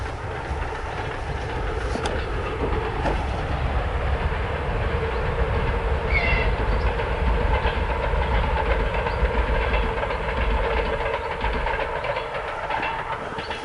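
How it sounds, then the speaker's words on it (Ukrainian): A train rolls past at a distance, a steady rumbling clatter of wheels on track that swells slightly mid-way, with a brief high squeal. "Звук потягу"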